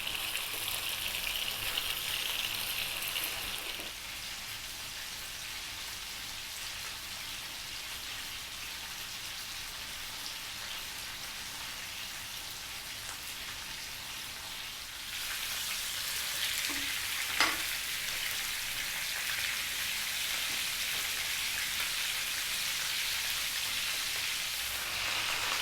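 Beef searing in a pan gives off a constant loud hiss and sizzle that drops back for a while, then surges up again, with a light clink partway through.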